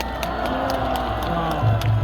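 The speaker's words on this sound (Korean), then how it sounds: "건강하시라 박수 한번 해주세요" An audience claps and cheers for a centenarian guest at a public gathering, a steady, fairly loud crowd sound of applause and voices throughout the short stretch.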